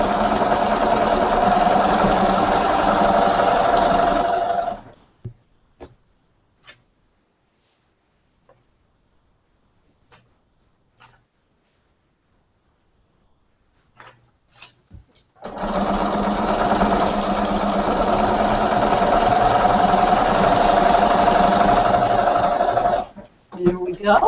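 A sewing machine quilting a quilt runs in a steady, fast whirring stitch for about five seconds, stops through a near-silent pause with a few small clicks, then runs again for another long steady burst.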